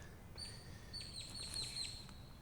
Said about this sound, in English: It's like a beautiful singing of birds.